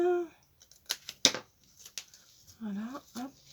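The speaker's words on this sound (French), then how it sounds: "Je coupe." Scissors snipping material while a basket is assembled with hot glue: a few sharp, crisp cuts and rustles between short bursts of someone speaking.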